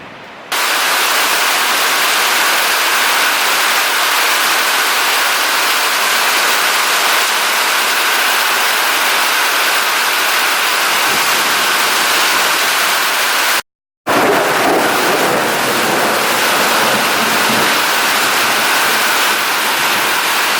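Heavy rain pours off the edges of a structure during Tropical Storm Imelda flooding in Houston in 2019. It makes a loud, steady, hissing roar that runs almost unbroken, with one brief cutout before the downpour resumes.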